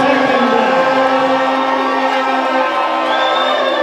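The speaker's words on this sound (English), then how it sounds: "Just listen to this crowd." A packed darts crowd at a PDC Africa qualifier roars and whoops in a sustained, loud wall of cheering that holds for several seconds.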